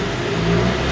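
A G87 BMW M2 engine on a dyno climbs steadily in fifth gear toward highway speed, a continuous loud mid-range drone that holds even through the short stretch.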